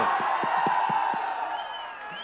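A live stage audience cheers and claps for an actor after a recitation, a loud sustained crowd roar with rhythmic thumps and whoops that tapers off slightly toward the end.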